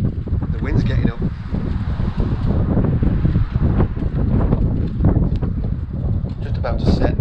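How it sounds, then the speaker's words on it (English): Wind gusting outdoors in a back garden, buffeting the microphone with rumbling, uneven bursts while a person talks throughout. "The wind's getting up."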